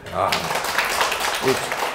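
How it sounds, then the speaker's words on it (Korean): A seminar audience on land investment applauds in a lecture room. The clapping is a dense, continuous patter heard under and among voices talking throughout. "박수 한번 쳐주시겠어요?"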